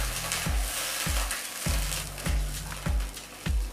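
Tom yum paste fries in a pan with a little water added, a steady bright sizzle broken by regular low knocks of stirring, close and loud, with no voices.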